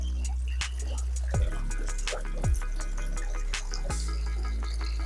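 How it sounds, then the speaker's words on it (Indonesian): Circulating water in an eel pond, with distinct drops falling at irregular intervals over a steady trickling flow, heard up close and without talk. "saya kasih sirkulasi agar airnya tidak baku dan belut di dalamnya tetap sehat"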